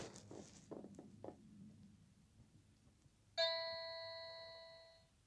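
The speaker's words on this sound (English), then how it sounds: "Now I have a keyboard." A few soft taps and rustles, then a single bright electronic keyboard chord rings out clearly and slowly fades.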